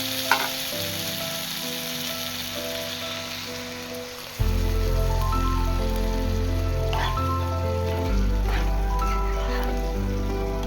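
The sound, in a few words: water being poured into a cooking vegetable curry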